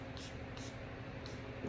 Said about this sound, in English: I'm gonna go ahead and spray this.